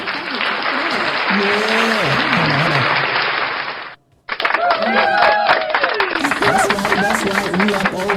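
A sound-effect burst of applause and cheering played during a podcast, cutting out briefly then resuming, with people talking over it.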